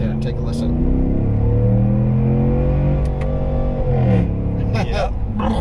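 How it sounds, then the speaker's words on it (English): A 2022 RAM Rebel G/T pickup truck revs hard in second gear up to the rev limiter and then shifts up, its engine note rising and falling loudly and close by, with a voice talking over it. "it does the great upshift if you hit the rev limiter in second and then hit there"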